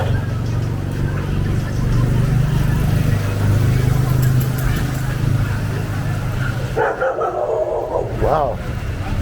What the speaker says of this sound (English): Dog is barking like out of control.